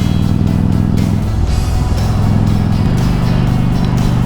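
Steady engine drone of a cruiser motorcycle under way, with low rumbling harmonics and constant wind rush throughout, loud and close with no letup or gear change.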